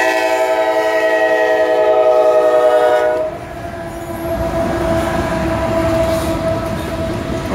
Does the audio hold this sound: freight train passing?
yes